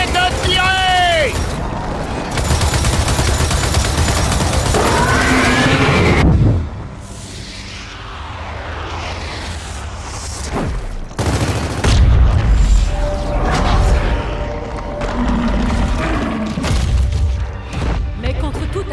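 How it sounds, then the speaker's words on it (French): Heavy gunfire and booming explosions from the Gears of War 4 video game, dense bursts and blasts with loud crashes, mixed with battle voices and music. "Continuez de tirer!"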